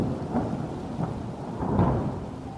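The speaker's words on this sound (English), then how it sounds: "Bernard Vonnegut had made a thunderstorm." A thunderstorm with a deep continuous rumble of thunder over steady rain, swelling slightly toward the end, with no voices.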